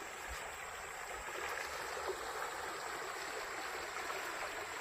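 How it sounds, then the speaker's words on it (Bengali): Strong water current rushing into a channel in the Sundarbans mangrove forest, a steady broadband hiss of flowing water heard up close with no breaks, fairly quiet and unbroken. "প্রচুর জোরে কিন্তু এখানে জলের স্রোত ঢুকছে এর ভিতরে"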